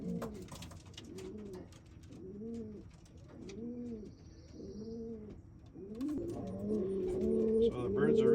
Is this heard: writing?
no